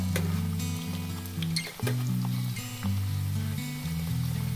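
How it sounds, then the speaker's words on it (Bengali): Chicken pieces fry in a pan, a moderate sizzling hiss over a steady low hum, with occasional clicks and crackles as the pieces are turned. "উল্টে পাল্টে এইভাবে লাল করে ভেজে নিতে হবে"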